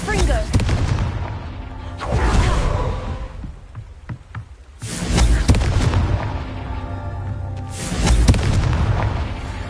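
Confringo fire curse in Hogwarts Legacy detonating near a ruined castle: three heavy booming blasts a few seconds apart, each a loud broadband burst with rumbling tail, close and alone.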